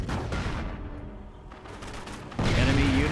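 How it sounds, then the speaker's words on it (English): Rapid bursts of gunfire from an aircraft strafing run in the World War II strategy game Company of Heroes, a dense crackle of shots that swells loudly near the end over ongoing battle noise. "Do we see the strafing run here?"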